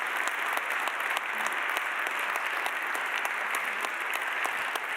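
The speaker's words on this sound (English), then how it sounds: "I think they deserve an applause." Conference audience applauding the event chairs at a management forum, brisk steady clapping of many hands filling the room, fairly close and even throughout.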